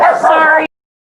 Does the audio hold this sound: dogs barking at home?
yes